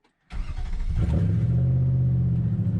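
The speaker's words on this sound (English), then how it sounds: "Let's go ahead and give her a crank." A Nissan Titan pickup with its muffler removed cranks briefly and fires up, settling straight into a loud, deep, steady idle rumble close by.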